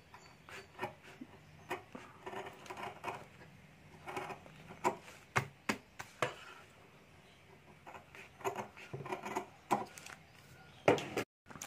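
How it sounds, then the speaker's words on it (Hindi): Scissors or a blade cutting wallet material into a rounded shape, a series of soft, irregular snipping and rubbing strokes at close range, fairly quiet with short pauses between cuts. "यहाँ से मैं राउंड में कटिंग कर लेता हूँ"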